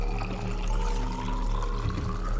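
In the Subnautica game, a water filtration machine pours water in a steady, close stream with bubbling and gurgling under a low machine hum, alone and without talk.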